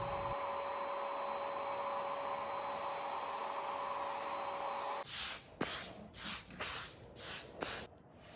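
A steady hiss of a paint sprayer applying polyurethane to furniture runs for several seconds, then breaks into six short, evenly spaced bursts of spray with brief pauses between.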